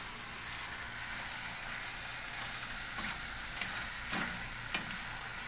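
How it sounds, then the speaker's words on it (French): Chicken broth poured into a hot pan and stirred, giving a steady low sizzle and bubbling hiss throughout with a few light scrapes of the spoon near the end. "Et on ajoute le bouillon de poulet. Ou de légumes. On mélange le tout."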